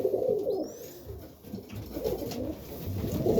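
Serbian highflyer pigeons coo in a winter loft, a close, continuous low burbling with overlapping calls and faint rustling.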